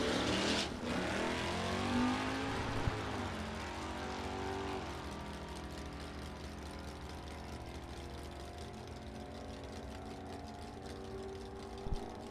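A 1988 Chevrolet Camaro from Earlville, Illinois makes a drag racing run at a test-and-tune event, its engine roaring loud at launch, then winding up through rising tones and fading as it pulls away down the strip.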